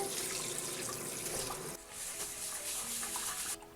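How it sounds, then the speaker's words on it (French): Tap water runs into a bowl of Japanese rice for rinsing, a steady loud splashing rush that dips briefly midway and then continues, close and alone. "Je mets de l'eau."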